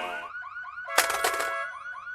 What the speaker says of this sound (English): Oh, it's just a car alarm.